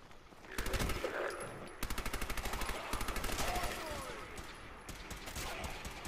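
Rapid bursts of video game gunfire in Fallout 4, loud and close, with repeated machine-gun-like volleys and brief pauses between strings of shots.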